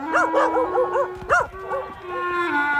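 A cartoon dog in the Ninjago animated series barks and yips in a quick series of sharp, tonal yelps, loud and close, with a brief howling whine between the barks.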